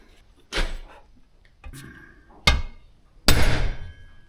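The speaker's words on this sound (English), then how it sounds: "the way you fix it is with a hammer" Several loud metallic hammer blows strike the steel oven door of a homemade rocket stove, landing as separate sharp impacts with short pauses between them and no voices.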